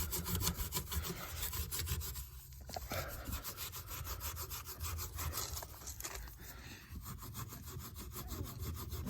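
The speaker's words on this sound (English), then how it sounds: "Just giving a light rub there to get the stain off" Steady rhythmic rubbing strokes on the painted body of a 1971 VW Westfalia camper, lifting rust stains from the surface; a continuous close scrubbing texture with no talking.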